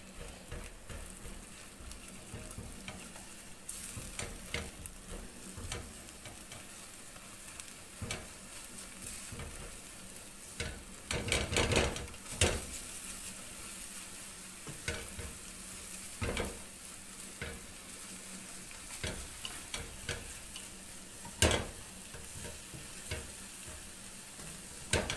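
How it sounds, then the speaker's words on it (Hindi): An egg being stirred continuously as it fries in a pan, a soft steady sizzle broken by repeated scraping clicks of a spatula, quiet and close. "इसको आपने मुसलसल हिलाते रहना है क्योंकि हमने इसका ऑमलेट नहीं बनाना।"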